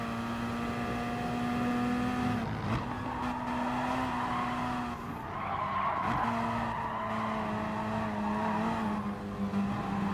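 Gr.3 race car engines roar in Gran Turismo Sport at Dragon Trail Gardens, a steady buzzing drone that shifts pitch with gear changes, with tire squeal and skidding mixed in.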